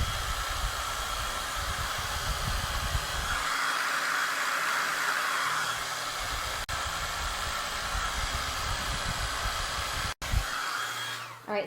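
A hair dryer blows on a craft Christmas tree for a farmhouse Christmas scene, a loud continuous hiss and whir that runs throughout with a brief cut near the end.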